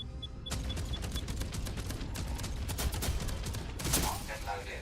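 Ship weapons firing in the space video game Jump Space or Void Crew: a rapid, steady stream of loud shots rattling for several seconds, ending in a heavier burst before fading.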